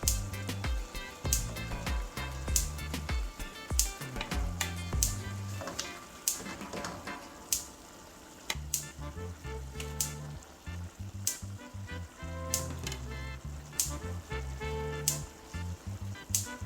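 Snapper fish laid into a hot pan for Jamaican-style steamed fish in coconut milk sizzles and fries steadily, with bursts of crackling and sharp pops over a low, constant hiss, close and moderately loud.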